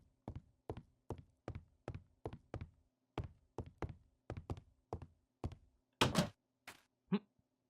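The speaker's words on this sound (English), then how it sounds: "You suddenly pause as the sound of your door knocking echoes through the house." Knocking on a door in the video game Skyline: REM: a steady run of about a dozen sharp, evenly spaced knocks, close and clear, followed by a couple of louder, heavier thuds at the end, with no talk.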